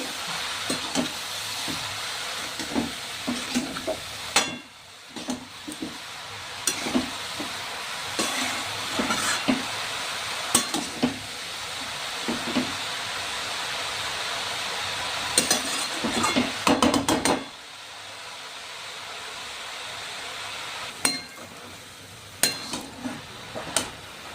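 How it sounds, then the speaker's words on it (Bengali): Turmeric and spices frying in a pan for cauliflower paratha, a soft background sizzle broken by repeated scraping stir strokes, with a quieter pause midway. "এক চামচ মতো হলুদ, এবার আমি এটাকে ভালো করে ভেজে নেব।"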